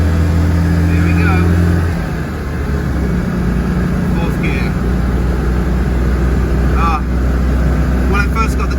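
Citroën 2CV engine pulling uphill in fourth gear, a loud steady low drone with a buzzing two-cylinder tone, recorded inside the car while a person talks over it.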